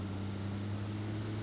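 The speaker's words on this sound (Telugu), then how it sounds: "ఓ వెహికల్" Vehicle engine in the mobile game BGMI, a steady low droning hum with a constant tonal buzz, brief and fairly faint, with no talk.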